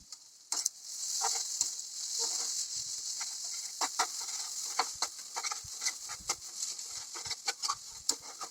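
Chowmein noodles stir-fried with onion and egg in a hot pan, a bright continuous sizzle broken by frequent clattering scrapes and tosses of the spatula, close and fairly loud, with no speech.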